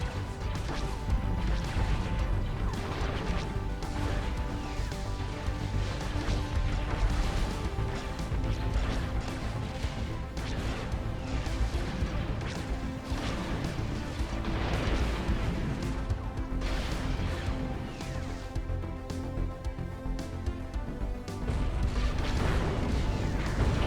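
Volleys of turbo laser fire in a Star Wars space battle, with a battlecruiser firing on small corvettes: a dense, continuous run of booming blasts and crashing impacts over a heavy, rumbling wash.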